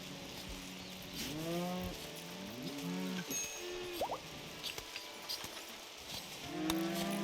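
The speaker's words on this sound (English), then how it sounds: "Look at that little cow. Or bull." Cattle in the video game RimWorld moo in several drawn-out, wavering lowing calls spread across the stretch, moderately close, over a soft ambient background.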